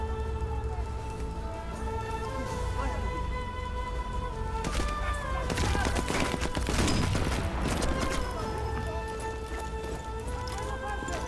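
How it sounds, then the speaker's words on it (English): Enemies on a bridge in Sniper Elite 4 open fire: a cluster of rapid, fairly distant gunshots crackles through the middle of the clip over a sustained musical score. "there's a good chunk of them on that bridge shooting us"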